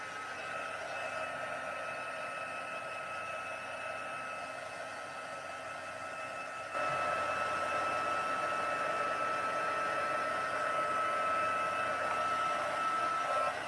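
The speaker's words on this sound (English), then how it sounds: "I'm going to take my heat gun again and try to dry it" A heat gun blows steadily while drying a folded paper card. Its constant, fairly faint whooshing hum continues without a break and grows slightly louder partway through.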